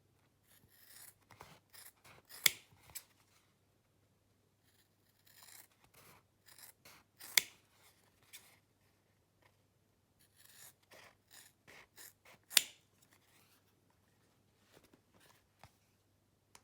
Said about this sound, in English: And then cut it out about 1/4 of an inch or so from the outside edges.